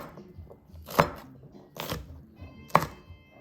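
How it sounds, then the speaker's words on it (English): A knife coarsely chopping yellow bell pepper on a cutting board, three distinct, fairly crisp chops spaced unevenly, close up with quiet kitchen background and no talking. "kind of a coarse chop in the bell pepper"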